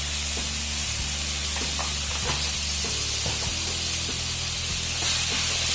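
Methi and rai powder sizzling in hot oil while making idli sambar, a steady bright frying hiss that runs throughout, with faint stirring clinks underneath.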